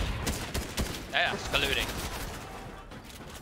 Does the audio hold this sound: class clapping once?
no